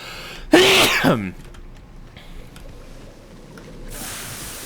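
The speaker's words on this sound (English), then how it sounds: "Man, what am I sneezing over?" A single loud sneeze bursts out up close in the video game The Outer Worlds, followed by quiet room noise and faint rustling.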